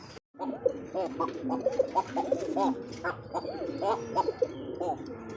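Pigeons cooing under a clay nesting pot, repeated soft throaty coos close by at an uneven rhythm over low background noise.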